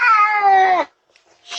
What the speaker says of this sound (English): the cat just got out